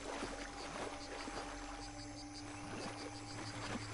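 A character wades through water in the video game Shadow of the Tomb Raider, with soft, continuous splashing and sloshing under a steady ambient jungle hum and faint repeating insect or frog calls.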